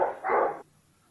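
Dogs barking close by in two loud bursts within about half a second, then quiet, heard at a rural home where many dogs and turkeys are kept.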